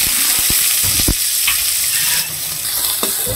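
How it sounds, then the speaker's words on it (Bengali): Chopped onion dropped into hot mustard oil already tempered with bay leaf, cumin, cloves and cardamom, sizzling loudly and close while a spoon stirs and scrapes the pan in a few sharp clinks. "এইবার পেঁয়াজটা দিয়ে দিচ্ছি"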